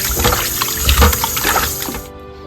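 Mutton being washed under running water, a close splashing, gurgling wash with sloshing bursts for a couple of seconds before it drops away.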